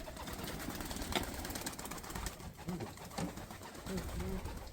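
Racing pigeons coo in several soft, low repeated calls near the end, set against a steady background hum and rustle at a loft during a one-loft race.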